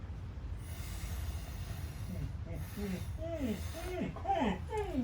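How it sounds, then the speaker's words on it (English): A young female husky, almost two years old, whines in a series of high squeaky falling cries that grow more frequent toward the end, heard indoors over a low background hiss. "that's my almost 2-year-old husky that you may hear squeaking."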